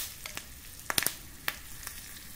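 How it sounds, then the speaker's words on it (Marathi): Green chilies and curry leaves crackle in hot oil for a tadka, with a quiet sizzle and a few sharp pops and spatters scattered across the moment, no voices. "बारीक कापलेल्या 2 हिरव्या मिरच्या, कढीपत्त्याची 5 ते 6 पाने. परतून घेऊया."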